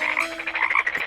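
Frogs croak in a dense, rapid, overlapping chorus, loud and close throughout with a steady pulsing rhythm and no voices.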